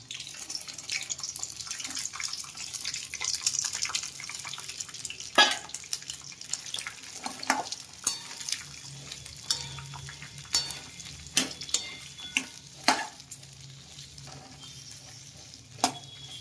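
Chopped tindora (ivy gourd) cooking in oil with whole spices: a constant soft sizzle with repeated metallic spatula clinks and scrapes as it is stirred.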